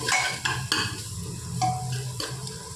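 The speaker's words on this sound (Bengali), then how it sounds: "এবার পেঁয়াজটা এই মশলার তেলের মধ্যে হালকা করে ভাজবো আমরা।" Onions fry in spiced oil while a spatula stirs them, giving a series of sharp scraping strokes against the pan over a constant close sizzle. There is no speech.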